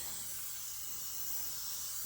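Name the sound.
makeup spray being sprayed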